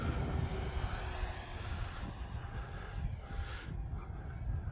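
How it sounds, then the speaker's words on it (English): A 4S electric RC plane flies at full speed into the wind over a cricket pitch, giving a steady, fairly loud whine with airy wind noise throughout, plus faint pitch sweeps as it passes. "it can go pretty decent for a 4S plane"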